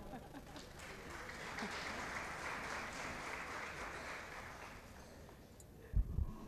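Steady audience applause at an artist's event, a dense even wash of claps holding for several seconds at moderate distance before thinning out, with a brief thump near the end.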